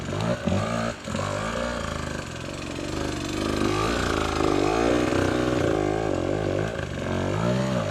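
A KTM 150XC-W TPI two-stroke dirt bike ridden off-road, its engine buzzing loudly and close with rising and falling revs and brief throttle dips.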